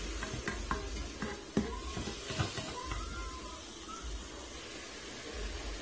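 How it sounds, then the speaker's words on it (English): A tablespoon of minced garlic cooks in a pan with ground beef and spices, giving a steady close sizzle with scattered clicks and scrapes from stirring, and no talking. "I'm probably going to add a good tablespoon of minced garlic. Cook all that up a little bit."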